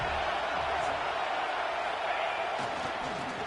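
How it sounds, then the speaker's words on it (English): A football stadium crowd builds a dense, steady roar as fans try to lift the home defense for a red zone stop, the wash of noise holding loud and even throughout. "here comes the noise. This crowd is trying to inspire this defense to make a big red zone stop"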